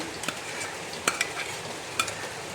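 Jackfruit thoran being stirred and cooked dry in a pan, with a soft sizzle and a few scraping clinks of the spoon against the pan, quiet and close.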